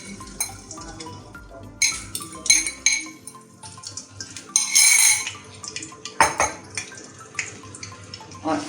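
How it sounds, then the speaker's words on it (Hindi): Beaten eggs going into hot oil in a pan and being scrambled, with clinks of a utensil against the pan, light sizzle and scraping in irregular bursts, close by. "अब यहाँ ऑयल में हम अंडे डाल देंगे।"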